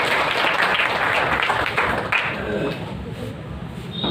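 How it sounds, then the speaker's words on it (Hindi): Audience clapping at a product presentation, a burst of applause that fades over a few seconds into quieter scattered claps. "इसके लिए तालियां हो जाए पर।"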